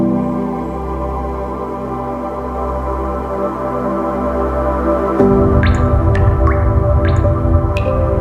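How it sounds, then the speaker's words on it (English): A small stream runs through a limestone cave, with a steady hollow wash beneath echoing drips that plink one by one in the reverberant space. "There is a little stream flowing underneath the cave. The water is crystal clear and the sound of stream echoes throughout the cave."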